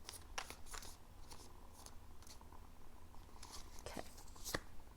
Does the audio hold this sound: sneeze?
no